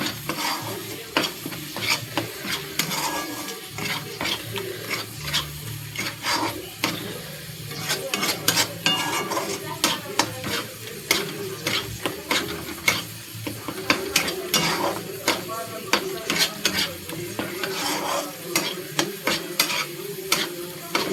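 Spices are stirred into tomato frying in oil for a chicken gravy, a spoon scraping and clinking against the pan in steady, repeated strokes over a soft continuous sizzle.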